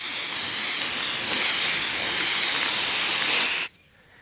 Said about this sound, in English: I immediately sprayed it white again